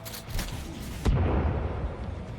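A thrown explosive charge detonates in the survival video game Sons of the Forest, a single loud, close boom that cuts through steady background noise and leaves a rumbling tail behind it.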